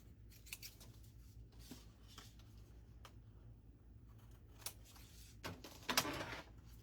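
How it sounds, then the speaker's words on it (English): Scissors trim card paper during a papercraft session, producing quiet intermittent snips and paper rustles over a low background hum, with a louder cluster of cuts near the end. "and then just take my scissors and trim it off."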